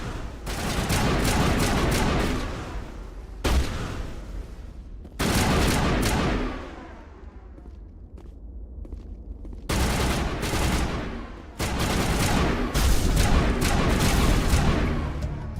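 A firefight in the video game Mass Effect fills the air with dense, loud bursts of rapid gunfire, broken by short lulls and a fading tail before the shooting starts again close up.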